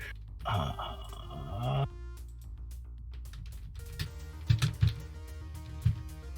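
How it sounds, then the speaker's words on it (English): Quick, close clicks of typing on a computer keyboard, in bursts with irregular rhythm, set against a droning tonal background. "It's a lot of typing, chat."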